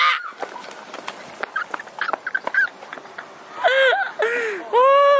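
Geese at a lake on a university campus in Seoul give loud honking, harmonic calls near the end, following scattered bird sounds and nearby voices talking.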